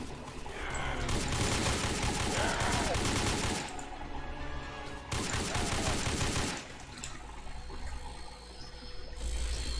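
A fast-firing gun in a Roblox game, two long stretches of rapid rattling shots separated by a brief lull, fairly quiet overall with a softer tail at the end.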